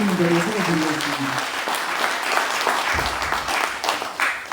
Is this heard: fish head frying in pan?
no